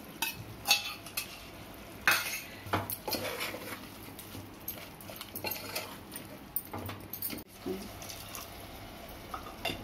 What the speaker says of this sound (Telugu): ఆనియన్స్ని ఇలా వేయించుకోవాలి